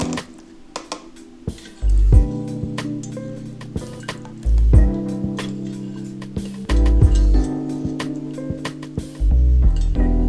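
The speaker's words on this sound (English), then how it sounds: "We'll go ahead and we'll grab our wire basket and we'll pull out those bay leaves that we talked about and get any rendered fat." A wire basket is lifted out of a crockpot of chicken broth while bay leaves and rendered fat are pulled out, making repeated metallic clinks and wet sloshing thumps close by, without talking.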